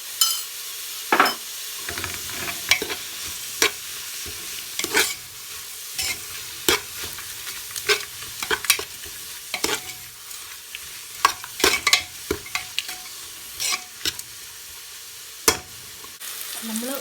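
Ingredients for a Kerala-style mutton curry sauté in a pan with added salt, giving a soft sizzle broken by frequent clinks and scrapes of a spoon stirring against the pan.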